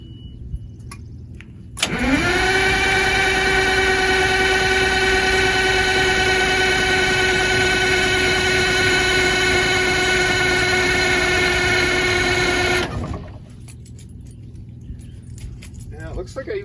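A cold engine with a slight exhaust leak cranks and catches, then runs with a loud, steady droning hum for about eleven seconds before cutting off abruptly, leaving quieter background noise.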